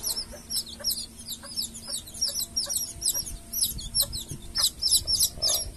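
Hybrid jungle fowl chicks about 3 and 21 days old chirp and cheep in rapid, repeated peeps while being handled for vaccination, with a low cluck now and then and light handling noise beneath.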